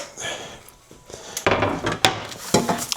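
Onions and ground turkey dropped into a pan, giving a few clattering, scraping knocks of food and utensil against cookware, louder and busier in the second half, with no talking.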